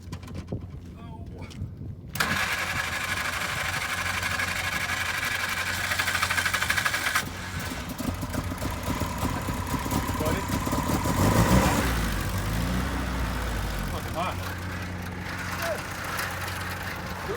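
Vintage engine running on its carburetor, a steady loud mid-pitched drone that rises after a couple of seconds and holds, with voices and clatter around it.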